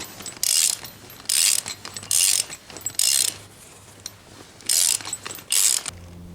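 Old bolts are fastened into a new pillow block bearing during a train axle cap repair, heard as about six loud, close bursts of ratchet clicking in a steady back-and-forth rhythm with short gaps between them.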